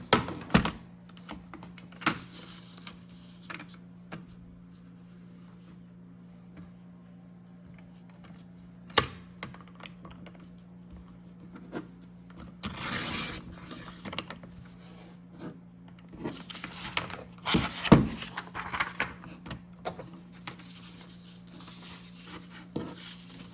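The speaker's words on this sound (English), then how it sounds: "paper trimmer in hand, and I'm gonna trim the white off of these" A handheld paper trimmer slices the white border off paper for a composition notebook, giving soft, quiet rasping cuts in short bursts over a faint steady hum, with no talking.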